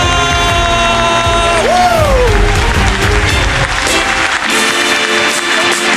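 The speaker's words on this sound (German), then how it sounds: "einen riesen Applaus für den Charles Nguela!" A comedy-show audience applauds and cheers for a stand-up comedian, a broad steady roar of clapping mixed with loud music that includes a sliding tone.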